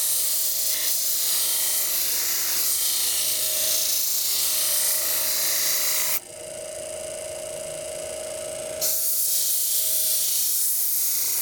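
Sharpening system grinding a knife or shear blade on a 240 grit wheel, a steady broadband hiss and whine that shifts abruptly partway through, as if the wheel stops and reverses, then resumes.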